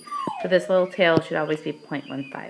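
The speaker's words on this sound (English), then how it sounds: "If you can hear my dog crying" A dog cries and whimpers in high, wavering whines that run under and between a person's spoken explanation.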